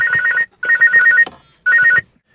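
An incoming phone call rings through the Bluetooth hands-free system of a 2011 Ford Fiesta. Three loud, close electronic ringtone bursts come with short gaps between them, and no one speaks.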